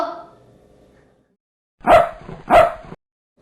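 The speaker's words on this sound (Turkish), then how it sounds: "Bu bir köpek." Two loud dog barks in quick succession, close by, after a faint tail of another sound fades out.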